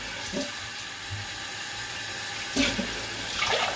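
Water splashes into a kettle in a home kitchen, heard in short bursts of running and splashing that start and stop near the microphone, with no voices.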